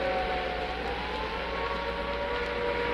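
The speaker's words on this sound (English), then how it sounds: "I'll just let you listen to the traffic and the sound of the siren for a moment." An air raid siren sounds over London traffic at Trafalgar Square, a steady droning tone hanging above a constant rumble of passing vehicles, sustained and unbroken throughout.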